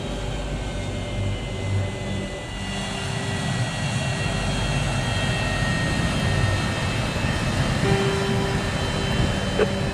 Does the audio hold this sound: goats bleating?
no